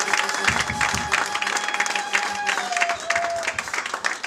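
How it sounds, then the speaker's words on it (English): A church congregation at a wedding service claps hands together for Jesus, dense rhythmic applause with some cheering, fairly loud, over sustained tones and faint voices. "Somebody clap hands together for Jesus"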